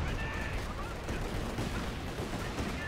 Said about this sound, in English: Land mattress firing.